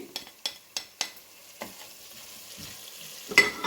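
Onions and chillies fry in oil for a mutton keema curry, with a soft sizzle under a few sharp taps of a spoon against the pan, then quieter stirring.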